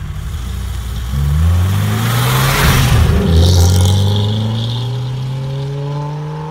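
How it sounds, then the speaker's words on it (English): A classic Mercedes 300SL Gullwing drives off, its engine rising loudly through a rev climb, dipping at a gear change and pulling away again, with no talking. "Now let's get this 300 SL out on the road."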